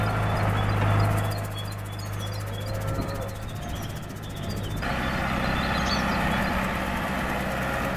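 A tractor spreads artificial fertilizer granules on an Irish dairy farm, its engine a steady, loud low rumble that runs throughout with no breaks and is heard alone.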